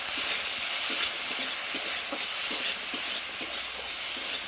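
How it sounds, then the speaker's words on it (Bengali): Potatoes sizzle steadily in a hot pan, with regular scraping stirs cutting through the constant hiss. "দেখো আলুটা একটু ভেজে নিয়েছি"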